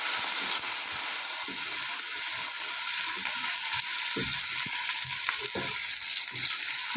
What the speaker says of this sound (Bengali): আমি পরিমাণ মতন রসুন বাটা দিয়ে দিয়েছি।